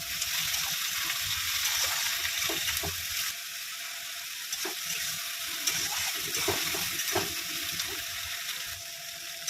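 Prawns rubbed with salt and turmeric frying alongside onions in oil, a steady soft sizzle and hiss with scattered spoon clicks and pan knocks, no talking over it.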